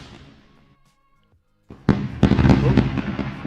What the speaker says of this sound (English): We're gonna celebrate that with its fireworks.